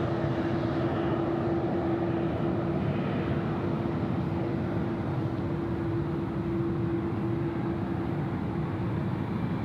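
Airliner landing on runway 34 left at Sydney Airport, a continuous loud engine roar with a steady droning hum, holding level throughout without talk.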